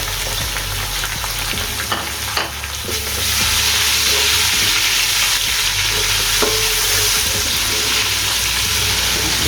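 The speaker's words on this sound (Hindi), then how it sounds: "अब हम इसमें ये 1 टमाटर है और 2 अदद हरी मिर्च ये डाल देंगे" Tomato and green chilies sizzle loudly in hot oil with browned ginger and garlic, a steady frying hiss with occasional stirring clinks that grows fuller after the vegetables go in.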